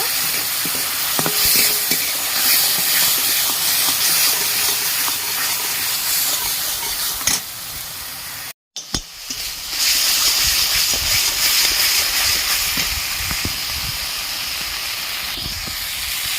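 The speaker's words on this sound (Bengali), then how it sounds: "এবার ভালো করে কষিয়ে নেব" Spice masala is sautéed in oil for a Barishal-style tel koi fish curry, a loud, steady sizzle with stirring scrapes throughout, cut by one brief silent gap midway.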